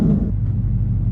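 A modified fifth-generation Chevrolet Camaro SS track car's deep engine rumbles steadily at idle, low and throaty, with a brief louder burble at the start before settling.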